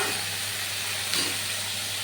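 Vegetables fry in a pan for khichuri with a steady, bright sizzling hiss, close and even throughout, with a brief louder spit midway; no talking.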